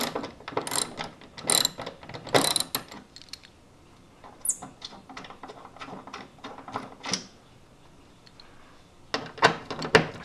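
A hand ratchet clicks in quick bursts while undoing 10 mm bolts in a Honda Civic Si FA5 trunk, with several close, sharp rattling runs separated by short pauses.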